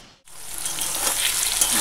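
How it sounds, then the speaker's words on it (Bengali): Steady, bright frying sizzle of teasel gourd in a pan, loud and close, starting after a brief pause and continuing throughout. "কাঁকরোল ভাজা বসিয়ে দিয়েছি, ডাল হয়ে গেছে।"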